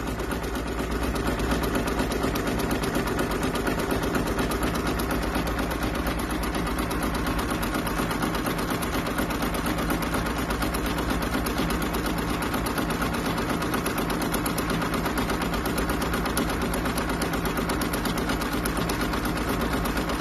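Baby Lock Capella embroidery machine stitching out a design, a fast steady mechanical needle chatter running continuously at close range with no voices.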